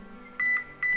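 Two short, clear electronic tones from a multimeter in continuity mode while pins are checked on a shorted Yaskawa SGDB-20VD servopack, each beep lasting about a fifth of a second with a brief gap between them.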